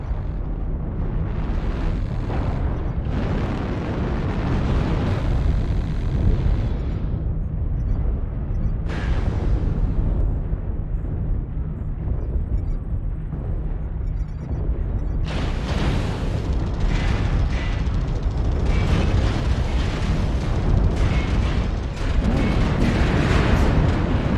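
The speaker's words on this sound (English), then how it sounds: "Artillery strike activated" Artillery strike explosions in the video game Mechanized Mayhem, a dense continuous rumble of booms and blasts with heavy low-end weight, loud and sustained across the whole stretch, with sudden bursts of brighter crackling debris midway.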